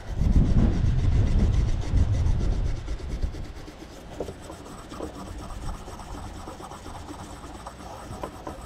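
A light wire brush scrubs a corroded 1914 Alkar relic, with loud, close rasping strokes for the first few seconds before they fade into quieter, intermittent scratching.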